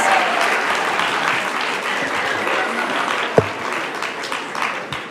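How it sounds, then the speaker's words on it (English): A graduation ceremony audience for peace studies graduates claps in sustained, dense applause that fills the hall evenly for the whole stretch, with one sharper clap standing out. "Let's give one more round of applause for the"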